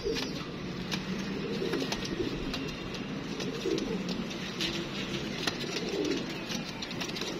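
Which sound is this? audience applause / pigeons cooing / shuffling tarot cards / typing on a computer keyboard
pigeons cooing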